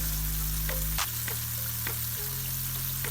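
Chicken broast pieces deep frying in hot oil, a steady close sizzle with faint crackles and a few soft pops, alone without voices.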